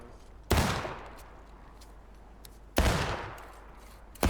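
Two massed musket volleys in the Civil War game War of Rights, each a sudden loud crackling blast decaying over about two seconds, the second following roughly two seconds after the first fades, with a third beginning at the very end.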